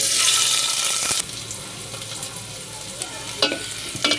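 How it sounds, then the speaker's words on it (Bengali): Chopped onions hit hot oil in a cooking pot and fry with a loud, steady sizzle that drops to a quieter crackle, with a few stirring scrapes and clinks near the end. "এখানে একটা পাতিল বসে দিয়ে এখানে একটু তেল দেব, পেঁয়াজ কুচিগুলো দিয়ে দেব"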